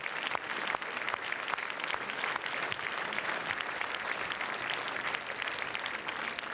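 Sustained audience applause fills a screening hall at the Cannes film festival, dense and steady from start to finish with no break in the clapping.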